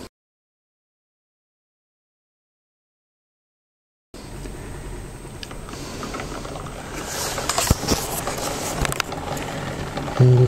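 After about four seconds of silence, the spring motor of a Talk-O-Phone phonograph runs with a steady mechanical whirring and grinding, with faint ratcheting clicks and a few louder knocks, close by.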